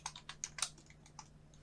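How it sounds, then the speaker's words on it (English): Fingers tap out a short typed prompt on a computer keyboard, giving a quick run of close, light clicks that thin out toward the end, with no voices. "you just need to type write C program"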